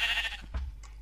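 A sheep bleats in Minecraft, a short nasal call over steady low game background hum, with a second fainter bleat trailing near the end.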